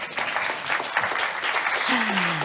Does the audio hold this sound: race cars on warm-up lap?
no